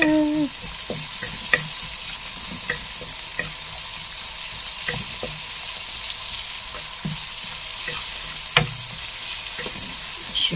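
Garlic sizzles steadily in a hot pan while cooking for spaghetti, a constant bright crackle of frying oil broken by repeated clinks and scrapes of a utensil stirring, with no talking.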